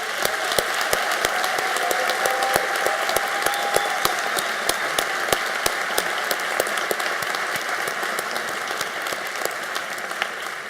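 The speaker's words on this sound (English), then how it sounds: "Please join me in a round of applause for our graduates, their families, and our faculty." Sustained audience applause for graduates, families and faculty at a School of the Arts graduate hooding ceremony, a steady wash of many hands clapping throughout with sharp individual claps standing out, no talking.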